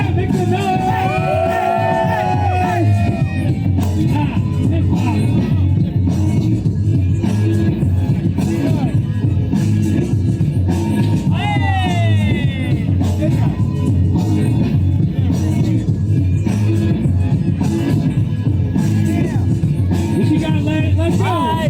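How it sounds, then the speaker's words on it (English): A crowd yells and whoops throughout a breakdance battle final at a jam event, shouting over a loud, pounding beat that runs without a break. "Yo, crowd, where you at? Make some noise."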